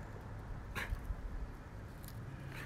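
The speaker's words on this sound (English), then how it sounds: "Why do you bark at cars, Bella?" A dog barks outdoors in a yard at passing cars, a few short, faint barks spread apart over steady background noise.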